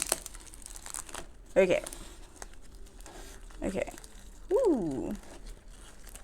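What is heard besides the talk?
unwrapping a packaged plant, crinkling wrapping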